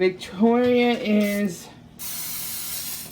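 Cooking spray hisses steadily onto a 9x13 cookie sheet, a continuous aerosol spray lasting over a second, heard after someone speaks briefly.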